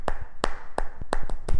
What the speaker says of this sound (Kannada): ಒಂದು ದೊಡ್ಡ ಚಪ್ಪಾಳೆ ಅಲ್ವಾ